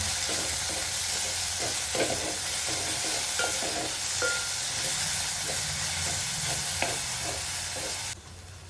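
A spice paste is stirred into a hot frying mixture for potato rice, giving a continuous close sizzle and steam hiss with intermittent utensil scrapes, which drops suddenly near the end.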